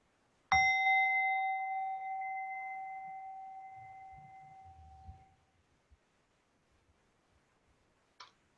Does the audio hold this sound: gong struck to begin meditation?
yes